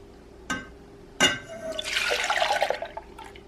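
Milk is poured into a pan for making chai, giving a splashy liquid pour and drips after two sharp knocks, close and fairly loud.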